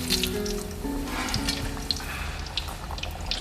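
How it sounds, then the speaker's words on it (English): Doli roti, a yeast-free proofed Multani Indian flatbread, fries in hot oil over a low flame, making a steady, soft sizzle and bubbling hiss with small crackles throughout, close and fairly quiet. "In goes my doli roti. Fry it on a low flame."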